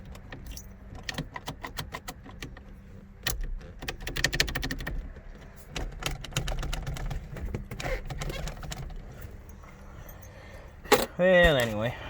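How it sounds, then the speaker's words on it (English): Car ignition keys jangle and clink as they are handled, in a series of short, bright jingles spread across the clip, with faint voices and handling noise underneath. "All I got was these ignition keys"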